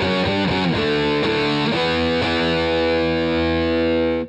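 Heavily distorted electric guitar plays the main riff of a song, with loud, thick power-chord hits at the start giving way to a long sustained chord that rings out alone.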